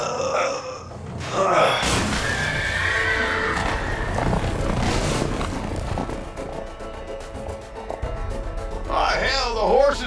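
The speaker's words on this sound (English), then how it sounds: "the horses are escaping" Horses whinny and neigh in the video game A Way Out as they bolt from a barn, with loud agitated calls rising near the end over a dense bed of game sound and voices.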